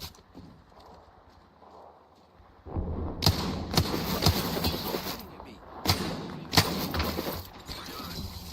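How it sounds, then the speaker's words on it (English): A knuckle cluster weapon deploys in a video game, heard as sharp mechanical clanks and thuds with bursts of metallic impacts over a busy background. "Deploying me knuckle cluster"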